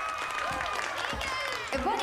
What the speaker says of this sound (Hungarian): Nagy tapsot a bandának!